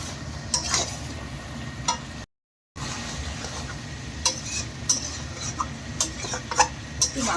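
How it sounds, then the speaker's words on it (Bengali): Green jackfruit and potato being stir-fried in a pan in a home kitchen, a steady sizzle under repeated scraping and clinking of a spatula against the metal, close and continuous with a brief cut partway through. "ভালো করে এঁচোড় আর আলু কষিয়ে নেবো"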